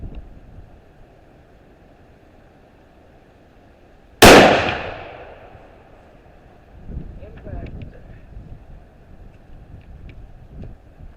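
A single loud, sharp rifle shot from a Howa 1500 action rifle with a stainless prefit barrel, cracking suddenly and decaying over a second or so outdoors, followed by faint rustling and wind.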